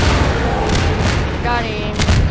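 A rocket launcher fires in Half-Life 2 amid a burst of game combat, with loud booming blasts and thuds layered over a constant noisy battle din.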